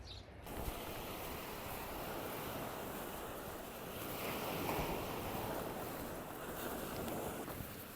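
Waves washing onto a beach on the Isle of Arran, Scotland, a steady, broad rushing surge mixed with wind buffeting the microphone.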